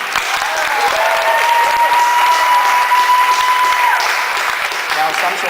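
A school quiz team from Assumption CSS in Burlington, Ontario gets a loud, sustained burst of crowd applause at a national competition, steady clapping that tapers slightly near the end.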